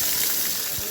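Onion added to fried fish in a hot pan: a steady, bright sizzling hiss, close and fairly loud, with soft crackles throughout.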